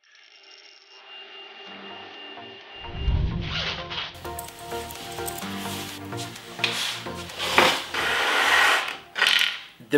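Three 3D printers running at once, a busy mechanical mix of stepper whine, ratcheting clicks and rattles that swells from quiet to loud, close by with no talk.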